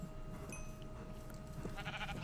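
Sheep bleat in a video game, a few short cries scattered over a steady background hum and game ambience, moderately faint with no talking.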